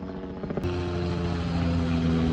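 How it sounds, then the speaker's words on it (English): A helicopter passes directly overhead near Interstate 75, its steady rotor drone loud and close, with a low engine hum throughout and no talking. "And here comes the helicopter right over top of us."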